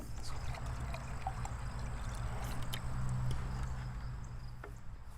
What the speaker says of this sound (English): I'm a little short on water in the tank now because it's all been pulled into this top tank, so I will just refill this a little bit.